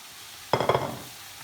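Browned mince with red pepper frying in a pan, stirred with one short scraping sweep and sizzle lasting about half a second after a quiet start.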